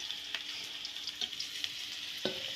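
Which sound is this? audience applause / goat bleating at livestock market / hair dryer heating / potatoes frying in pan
potatoes frying in pan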